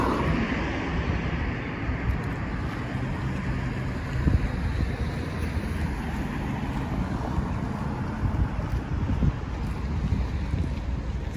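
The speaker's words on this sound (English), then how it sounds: "Feels windier than I thought" Wind gusts buffet the microphone outdoors on a city walk through a Winnipeg residential neighbourhood, making a continuous, loud, rumbling rush with occasional bumps and no speech.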